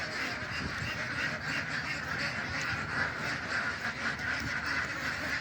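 A flock of ducks on a duck farm in Qatar quacks continuously and noisily close by, a dense, overlapping chorus with no pauses.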